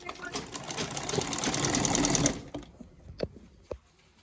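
A sewing machine stitches a full-length sleeve on a garment with a fast, rattling run of needle strokes that builds and then stops, followed by a few sparse clicks and taps from handling the fabric.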